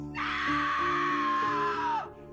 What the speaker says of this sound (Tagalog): kung kaya't sumigaw na lang ako ng malakas